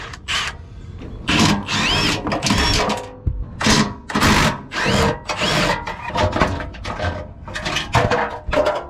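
Power tool, likely an impact driver, backing out three half-inch heat shield bolts under a 2022 Ford F250 Super Duty truck, repeated loud whirring bursts with short gaps, close up, no speech.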